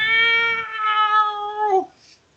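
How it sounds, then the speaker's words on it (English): A cat gives one long, loud meow with a clear harmonic tone, held steady and then bending down at the end, close and alone with no voices. "a galumphing cat rushes through the dockside, knocking people aside"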